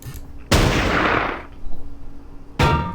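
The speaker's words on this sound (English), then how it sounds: "We've also got our Soviet AT rifle team. We're going to open fire on the Nashorn." Soviet anti-tank rifle team opens fire on a German Nashorn tank destroyer in a Kursk battle of the wargame Battle Academy 2: two sharp, loud rifle reports roughly two seconds apart, the first trailing a long ringing decay.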